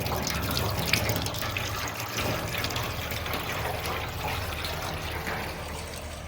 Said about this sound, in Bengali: প্রথমে সুন্দর করে ছেঁকে নেবো রসটা